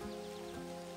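Rain falls steadily during a boat ride through Parambikulam forest, a continuous hiss layered over a constant tonal drone, with no voices.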